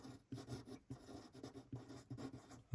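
A pen moves by hand across paper on a drawing of the F1 Imola circuit, soft scratchy strokes in short close bursts separated by brief pauses, with no talking.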